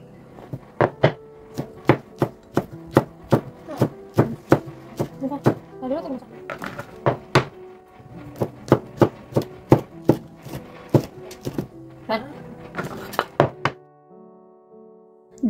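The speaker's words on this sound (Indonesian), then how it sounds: "sekarang nih aku mau lanjut aja buat ngiris-ngirisin bumbunya dulu" Rapid knife chops on a cutting board while slicing cooking spices at home, a steady run of sharp close knocks with brief pauses, over a low background hum.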